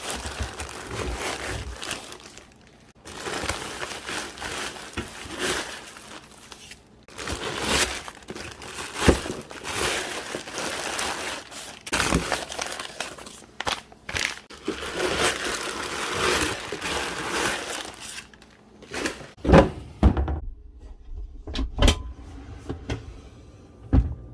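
Plastic bags are crumpled and crushed as trash in a kitchen clean-up, with bursts of loud crinkling and rustling close by, broken by short pauses and trailing off near the end.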